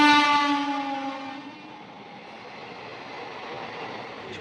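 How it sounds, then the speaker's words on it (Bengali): A train passes close by, opening with a loud horn blast that fades into a steady rumble of rolling wheels and carriages. "এদিক থেকে একটা ট্রেন আসছে, থ্রু পাস যাবে।"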